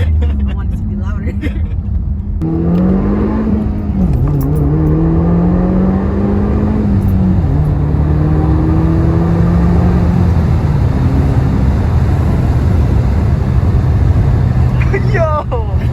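A 2015-or-later Subaru WRX with a Remark Boso axleback exhaust revs and accelerates with a deep, throaty exhaust tone rising and falling in pitch, loud and close, with voices talking over it.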